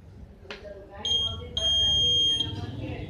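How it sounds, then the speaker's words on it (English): A DIY Iron Man arc reactor hand cannon's buzzer, triggered by an infrared sensor, sounds as a steady high electronic tone in two bursts of about half a second and one second, clear and close over low room noise. "there is an infrared light to actuate the buzzer and the LEDs"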